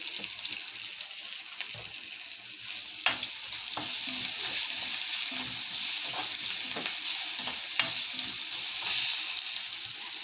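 Onions and spices fry in a pan with a steady, close sizzle while a utensil stirs and scrapes in occasional sharp knocks, without any talking.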